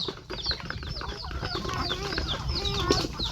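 Farmyard chickens cluck and chatter in the evening, a busy overlapping stream of clucks and short calls close by, with voices faintly present underneath.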